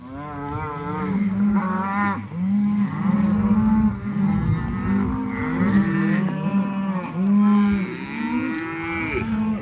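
A large herd of beef cattle being gathered at a gate to doctor pinkeye, many cows mooing loudly and almost continuously, overlapping calls near and far, with no talk over them.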